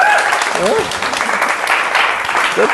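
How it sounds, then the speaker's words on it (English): Workshop participants give a round of applause, a steady burst of clapping from a modest group, with voices speaking and exclaiming over it. "Let's give a round of applause for that."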